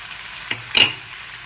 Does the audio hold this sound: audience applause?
no